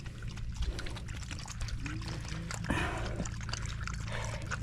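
Water pours steadily and continuously for animals to drink outdoors, a close, even liquid rush with no talking.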